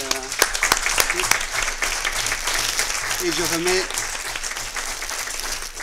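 Audience applause for a panel at a health professionals' training session, clapping running under someone speaking French over a microphone for the whole stretch.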